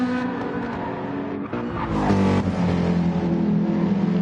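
Race cars in an online video game race, a Porsche and a Subaru WRX among the field, roar steadily with layered engine tones, a brief dip and then a louder surge of revving with hints of tire squeal.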